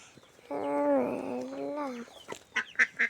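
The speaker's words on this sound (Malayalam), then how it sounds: "ആ താറാവിനെ ഒന്ന് കൂടി ഞാൻ അങ്ങനെ ഉണ്ടോ പിടിച്ചു വെച്ച്." Loud nasal duck quacks: one long drawn-out call, then a few shorter sharp honks close by.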